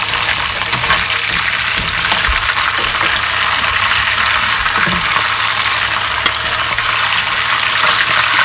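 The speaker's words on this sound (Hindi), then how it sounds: "हल्का सा फ्राई करेंगे हम एक तरफ से और फिर इसको पलट देंगे।" Pieces of silver pomfret fish fry in hot oil in a pan, giving a loud, continuous sizzle with occasional pops and crackles.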